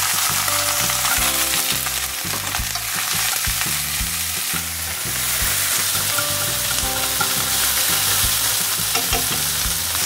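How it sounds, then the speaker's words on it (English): Onions stir-frying in a very hot wok with chicken for Singapore chow mein, a loud continuous sizzle with steady scraping and tossing of the stirring utensil throughout. "So you stir that, it doesn't take that long, about 30 seconds."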